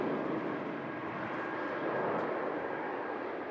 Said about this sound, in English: Aer Lingus, A330 heading out